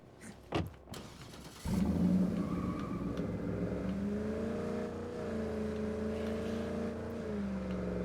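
A car in the zombie survival game State of Decay 2 pulls away, its steady engine drone rising and holding close and loud for several seconds after a door-like thump.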